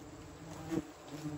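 Hornets buzz around a disturbed nest on a garage door, a steady faint drone with one insect passing close and loud midway, with no talking.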